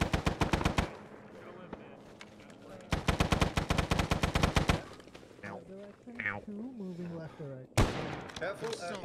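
Automatic gunfire in Arma 3 set in Vietnam: two long, loud bursts of rapid shots, a short rattle at the start and a single sharp crack near the end, with people talking between the bursts.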